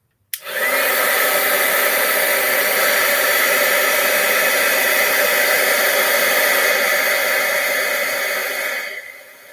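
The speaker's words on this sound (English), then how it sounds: "we're just going to heat this up now with our heat tool" A heat tool blasting hot air over embossing powder, a loud steady whooshing roar that starts abruptly, holds for about nine seconds, then cuts off, with no talking.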